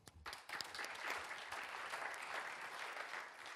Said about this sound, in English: These people deserve applause.